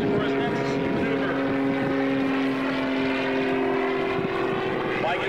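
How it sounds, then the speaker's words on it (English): An Edge 540 aerobatic airplane flies a maneuver at an airshow, its engine giving a steady, loud propeller drone with a sustained tonal hum that barely changes pitch over several seconds, with faint crowd or announcer sounds beneath. "It's an exciting routine, his Edge 540 state-of-the-art airplane"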